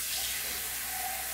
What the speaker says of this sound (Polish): tylko naleję mu trochę wody